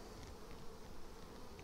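Honey bees hum steadily while being moved from a nuc into a ten-frame hive box during a weak nectar flow, a faint continuous buzz with no other sounds.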